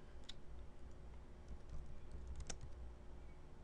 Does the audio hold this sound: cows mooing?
no